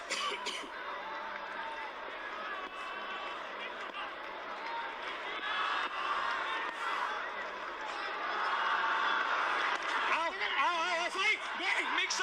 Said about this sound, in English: Prompted an applause from his camp.